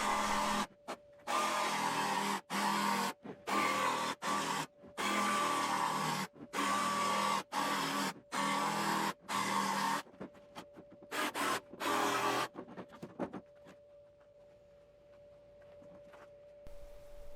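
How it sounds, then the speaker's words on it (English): A jigsaw fitted with a wood blade cuts through house siding in repeated loud rasping bursts of one to two seconds, separated by short pauses, then the cutting stops and only faint background hum remains. "Most of the cuts I'm making are just with a jigsaw and a wood blade on it."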